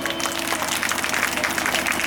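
Audience applause at a Hindi religious discourse on Hanuman, steady dense clapping from a large crowd throughout, fairly loud with some voices mixed in.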